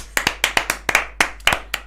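A few people clapping hands briefly, sharp close claps in a quick, slightly irregular rhythm, about a dozen in under two seconds.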